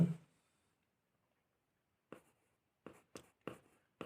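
A pen writing out a vector magnitude calculation, heard as a handful of short, close scratchy strokes after a quiet pause, each stroke brief and distinct, with silence between and no talking.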